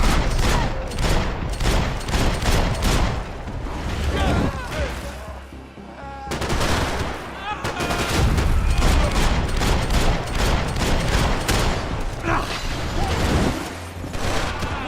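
Dense, continuous gunfire in the video game Max Payne 3, loud overlapping shots and bursts filling the scene, with shouting voices mixed in throughout.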